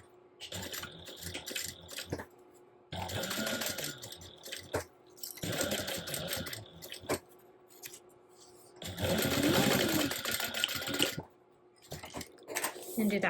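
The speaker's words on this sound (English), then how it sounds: "So now we're going to baste along the edges to hold everything together." A sewing machine bastes along the edges of a crossbody bag in several rapid bursts of stitching, each run a few seconds long and separated by short pauses and handling noises.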